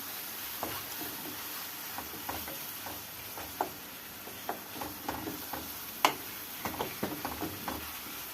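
Minced meat filling for a spinach and mince katmer stirred and frying in a pan, with a steady soft sizzle and scattered scraping clicks of the spoon against the pan, close and fairly quiet, no voices.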